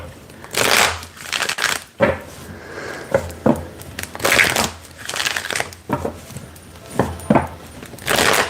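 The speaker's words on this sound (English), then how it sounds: "I'm gonna shuffle again." Tarot cards are shuffled by hand in repeated bursts of riffling and crinkly rustling, close and fairly loud, with brief pauses between each pass.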